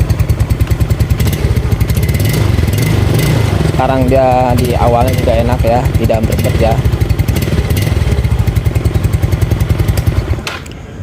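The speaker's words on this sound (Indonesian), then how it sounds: "jadi yang suara terdengar garing di bagian knalpot itu jadi suara saringan knalpot, dia sudah ada kebocoran ya" A Yamaha Mio scooter engine with a leaking exhaust filter runs close by in a fast, rough, pulsing putter, loud and steady, while someone talks over it before the engine cuts off near the end.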